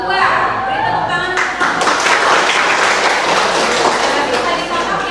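A classroom of children bursts into applause for a group, with lively clapping building after a teacher's voice and continuing with chatter mixed in.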